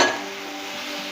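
Fried chicken pieces being stirred into a garlic masala in a pan, with a soft steady sizzle and faint scraping of the spoon, close and fairly quiet with no talking.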